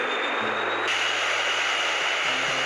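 Steady drone of a Tupolev Tu-95MS strategic bomber's engines during a Russian nuclear forces exercise, loud and continuous with a constant low hum throughout, no voices.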